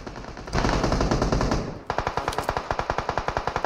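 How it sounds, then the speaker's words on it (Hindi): Gunfire in PUBG Mobile: a dense, loud burst of automatic fire, then after a short gap a rapid, evenly spaced string of sharp shots continuing to the end. "अब मेरे को पीछे से गोलियां भी सुनाई देने लगी"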